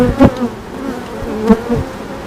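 Honeybees from a relocated swarm buzz loudly and close at an open hive, a dense steady hum with individual bees droning past.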